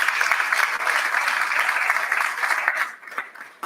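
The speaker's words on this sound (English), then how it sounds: "Please give them a round of applause" Audience applause at a dedication and ribbon-cutting ceremony, a dense, close burst of many hands clapping that stays strong for about three seconds, then thins and fades quickly.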